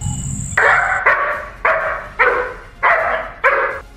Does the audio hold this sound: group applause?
no